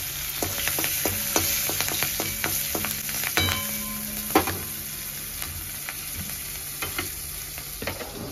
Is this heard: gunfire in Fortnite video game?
no